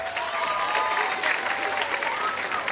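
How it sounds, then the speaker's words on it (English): Steady audience applause at a school talent show, continuous crowd clapping at moderate level for a few seconds with a faint tonal hum beneath. "So that deserves a round of applause in itself."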